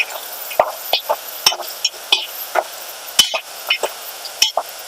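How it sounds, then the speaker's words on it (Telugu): Bottle gourd curry being stirred and fried in a pan, a soft background sizzle broken by repeated sharp scrapes and clacks of the spoon against the pan at an uneven rhythm, close and clear. "ఇది కొంచెం బాగా ఫ్రై అవ్వాలండి"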